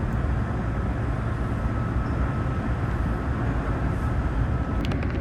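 A Keihan local train runs past on quadruple track, a steady, loud rolling rumble of wheels and carriage noise close by, with a few faint higher clicks near the end.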